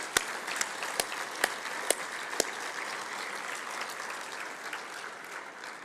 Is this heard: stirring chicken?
no